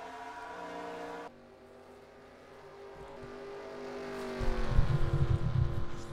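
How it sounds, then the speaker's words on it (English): A race car in an NRSL sim racing series event at Dubai sounds a sustained engine whine that drops away. The tone then climbs steadily into a louder, rougher revving roar near the end. "This is McIntyre's car by now. It's definitely warmed up"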